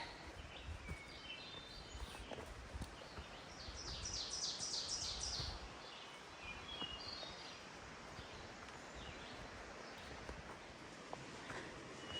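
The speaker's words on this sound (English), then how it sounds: "I thought I'd record because you can hear the lovely birds." Birds chirp and trill faintly in a quiet Maine forest near Dunn Falls, with a brief burst of song in the middle over soft rustling and footsteps.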